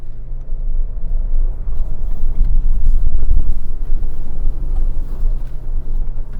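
A 2026 Hyundai Palisade XRT PRO rolls over loose gravel and dirt on a trail, giving a continuous deep rumble with wind buffeting, loud and close from inside the cabin, with no voices.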